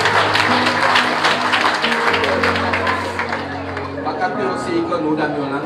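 Congregation applause at a church service, a steady wash of clapping from many hands under a voice speaking and sustained tones, fairly loud and continuous throughout.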